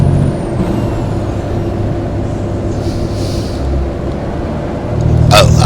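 Truck driving in the American Truck Simulator video game: a loud, steady engine drone rolls throughout, with a sharp hiss like an air brake near the end.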